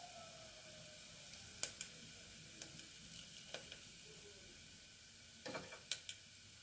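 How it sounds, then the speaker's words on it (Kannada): Kasuri methi and fennel seeds spluttering in a little hot cooking oil for a carrot and bean pulao, a faint steady sizzle broken by a few sharp pops and crackles, close by with no talking. "ಕಸೂರಿ ಮೇಥಿ ಮತ್ತು ಸೋಂಪು ಕಾಳು ಹಾಕ್ಬಿಟ್ಟು ಸ್ವಲ್ಪ ಹಾಗೆ ಅದು ಚಟಪಟ ಅಂದ ನಂತರ ಕೈ ಆಡಬೇಕು"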